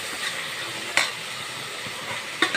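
Boiled mutton keema seasoned with salt and chilli powder is tipped into a pan and stirred for a mutton keema biryani. A steady close sizzle runs throughout, broken by two sharp scraping clatters, one early and one near the end.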